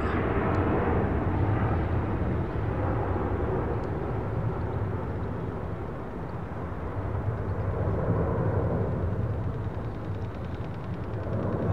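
An airliner departs runway 09R at London Heathrow at full throttle, a loud, broad sustained engine roar that swells and eases slightly before building again, with no voices.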